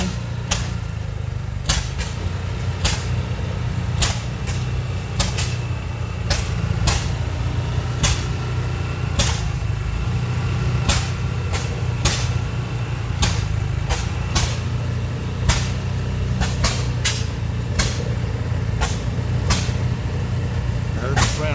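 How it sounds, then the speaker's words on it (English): A Bessemer stationary engine runs at an outdoor tractor and engine show, a low steady chugging drone with periodic sharp exhaust pops or knocks at irregular intervals, and people talking nearby. "Bessemer engine."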